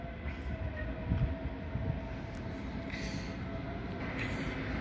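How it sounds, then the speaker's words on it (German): An ICE high-speed train rumbles into Hackerbrücke station in Munich, a steady rolling roar with faint high squeals and a brief distant horn-like tone, heard fairly close with no speech. "kommt noch die ICE"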